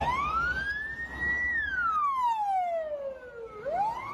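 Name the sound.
police car siren in a video game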